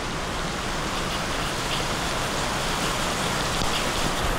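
Steady rain pours down in a continuous even hiss over a road in Kamothe near Panvel, with faint passing traffic mixed in and no voices.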